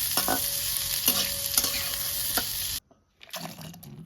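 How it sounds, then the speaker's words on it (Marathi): Onion, garlic and coconut roasting in a pan, a loud continuous sizzle with scraping stirring strokes, cutting off sharply near the end before faint clatter follows. "कांदो लसूण आणि खोबरा आपल्याला भाजून घ्यायचा"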